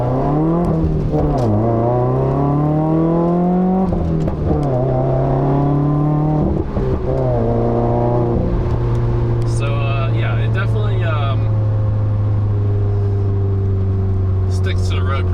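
A 2015 Subaru WRX driven hard, its engine note climbing through repeated pulls and shifts, loud and close, settling into a steady cruising drone near the end.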